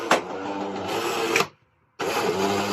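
Jura Impressa coffee machine whirring and buzzing steadily as it powers on, a bright mechanical hum running for about a second and a half, dropping into brief silence, then resuming at similar loudness, close by.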